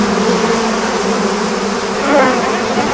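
Bees buzz steadily around brightly coloured hive boxes set in alfalfa fields, a dense continuous hum close by with no voices.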